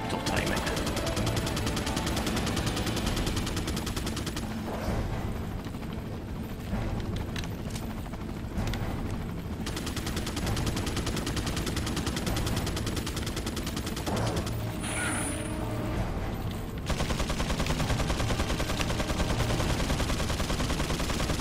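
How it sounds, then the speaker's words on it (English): Gunfire in the Resident Evil 4 game crackles in dense rapid bursts over a constant loud noisy backdrop, with a brief lull midway before the shooting resumes. "he's just shooting because he loves shooting"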